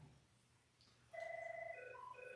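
A telephone rings with a warbling, repeated electronic trill that starts abruptly after a quiet moment and continues steadily, fairly faint in a room.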